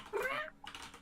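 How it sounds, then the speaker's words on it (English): A cat gives a short, clear meow up close, followed by a fainter trailing chirp, heard alone in a quiet indoor room. "Kitty noises."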